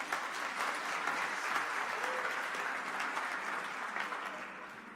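An audience at a church leadership gathering applauds steadily, a continuous moderate wash of clapping that slowly fades toward the end.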